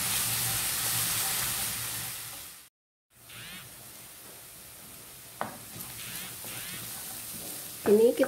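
Shallots fry and sizzle in a pan for Almalaki rice, a steady broadband hiss with a brief pause, followed by soft scraping and clinks as the pan is stirred.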